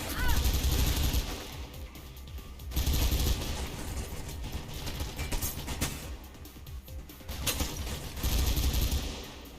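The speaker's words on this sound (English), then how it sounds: "I get the machine gun." Machine gun fire in the first-person parkour game Mirror's Edge, dense rattling bursts in several loud waves with brief lulls between them, set among game sounds and faint voices.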